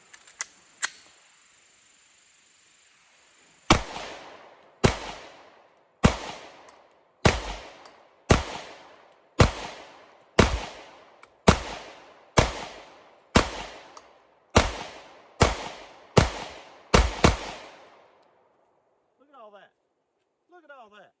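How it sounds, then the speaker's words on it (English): Springfield Armory Hellcat Pro pistol fired in a steady series of about fourteen sharp, loud shots at roughly one-second intervals, each with a brief ringing tail, after a couple of faint clicks. "I don't think I've ever shot a pistol that had that much gas coming out of it."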